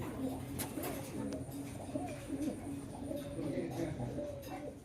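Pair of black Rasgolla breed pigeons cooing softly and continuously in a low, warbling murmur, close but quiet, with faint background voices and chatter.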